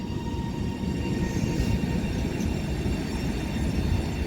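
TransPennine Express Class 397 electric train rolling into Wigan North Western station on the West Coast Main Line, a steady low rumble of wheels and traction close by, no voices.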